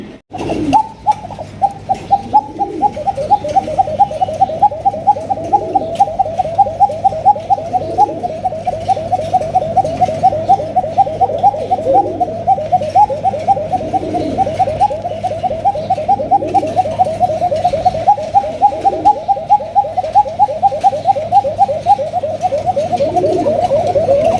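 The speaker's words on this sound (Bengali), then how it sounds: "কোকা কবুতরটা মাসাল্লাহ অনেক খুবই চিকন সুরে মানে এত সুন্দর ডাক দেয়" A pigeon repeats a thin, rhythmic cooing call at close range, steady and loud for the whole stretch, with a constant low hum behind it and no talk.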